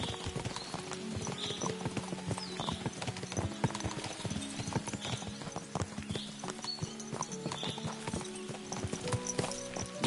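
Steady clip-clop of horse hooves trotting at a brisk, even rhythm in the video game Kingdom Come: Deliverance 2, with a faint whinny and continuous background sound.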